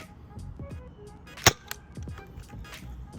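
A homemade Nerf crossbow launches a foam dart with a single sharp snap, followed by a softer click, amid quiet handling noise at close range.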